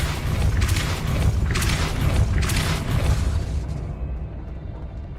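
A Depulso spell from the game Hogwarts Legacy fires off as a series of booming magical bursts, several blasts in a row over a steady rumbling bed that fades out at the end.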